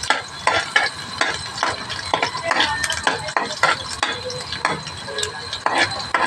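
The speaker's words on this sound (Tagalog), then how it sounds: "Unahin po natin itong bawang hanggang sa mag-brownish." Garlic fries in a pan until brownish, with a soft steady sizzle beneath repeated scraping and clinking of a utensil stirring against the pan, close and fairly loud.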